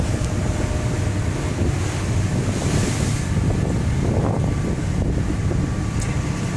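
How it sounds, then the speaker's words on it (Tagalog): Strong wind roaring against the microphone over heavy, churning sea waves during a typhoon at sea near Taiwan, loud and continuous throughout. "Grabe yung alon, grabe."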